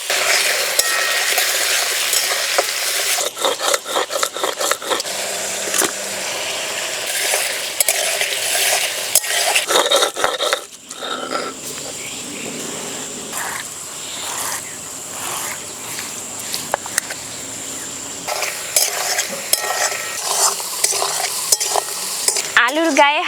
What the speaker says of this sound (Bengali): আলু ভাজার সময় একটুখানি নুন দিয়ে দিলাম।